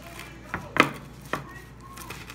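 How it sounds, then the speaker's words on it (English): A knife slicing a vegan pizza crust into small pieces, three crisp, close cuts in a short uneven sequence against a quiet kitchen background. "I'm just going to cut it into little pieces like this"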